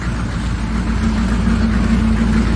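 GMC truck engine running after an engine swap, a steady close idle with a low rumbling drone and constant level throughout, no voices.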